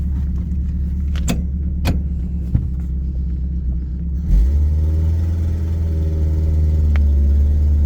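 A 1950 Buick Super with an exhaust leak rumbles along on the road, a deep steady engine drone with a few rattles and clicks early on, then growing fuller and louder as it pulls away.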